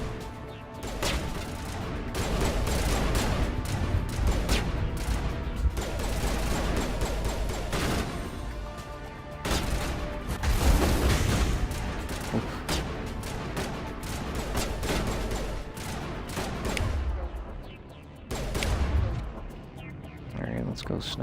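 Gunfire in the sci-fi shooter Mass Effect 1 on Xbox, dense bursts of rapid weapon fire and crashing impacts in clustered volleys with brief lulls, loud and close, with voices talking over parts of it.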